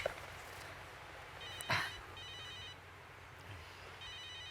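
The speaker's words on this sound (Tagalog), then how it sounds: "Nagre-ring po yata yung telepono niyo." A phone rings briefly in a quiet room, a short electronic trill with faint repeating tones after it, distant and soft.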